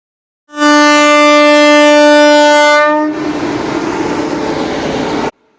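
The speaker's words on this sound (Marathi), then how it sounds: "आता ही ट्रेन निघालेली आहे आपण हिला बिदाई देऊया" A loud, sustained train horn blasts for a few seconds, then gives way to the steady rumble of a train rolling past close by.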